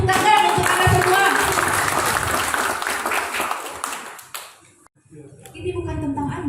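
An audience at a Pioneer Solo Raya meetup claps and applauds loudly for several seconds before the applause fades, followed by a speaker's voice.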